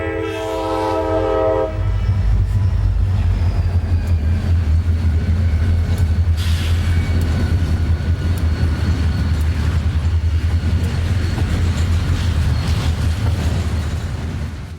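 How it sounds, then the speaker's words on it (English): A CSX freight train, R511, pulls out onto the main line in 1995: a short multi-chime horn blast opens, then a heavy diesel drone and rolling wheel noise build and hold loud and steady without speech. "With the main line to the south clear, train R511 pulls out onto the main line and leaves town."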